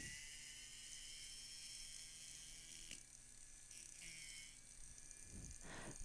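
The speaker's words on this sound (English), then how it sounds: "hold your drill straight up and down, and go straight across." A steady high-pitched electric nail drill whine shortening acrylic nails runs throughout, its pitch shifting slightly as it works, close and continuous with no talking.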